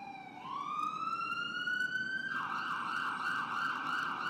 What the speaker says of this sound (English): An ambulance speeds to the scene, coming to a halt on the corner of Night and Day.